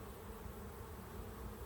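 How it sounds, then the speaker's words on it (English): A dense, steady buzz of many calm honeybees in a hive during an inspection, a continuous low hum with no pauses. "You can tell a lot from the sound of the bees. These ones are pretty mellow."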